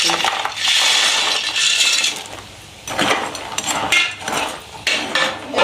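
A spoon stirs sticky jaggery syrup through fried banana chips in a pan for Kerala sharkkara varatti. Bursts of scraping and clattering come and go close to the microphone, with short pauses between them.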